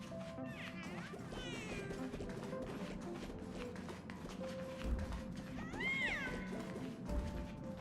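Cats meowing in the video game Honkai: Star Rail, a few rising and falling meows at about one and six seconds heard over a busy, steady game soundtrack.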